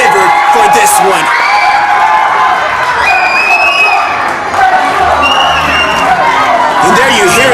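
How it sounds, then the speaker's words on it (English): A wrestling crowd at a tornado tag title match cheers, whoops and applauds in a big venue, loud and continuous, with a brief dip midway before the noise swells again, while a voice talks over it. "And there you hear the crowd there appreciating all the wrestlers."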